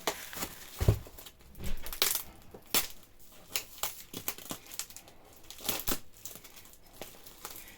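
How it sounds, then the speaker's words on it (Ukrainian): Crinkling and tearing of heavy packing tape on a parcel, with sharp rips and crackles in irregular bursts, close up and without talk. "Зараз будемо вскривати тут скільки скотчу"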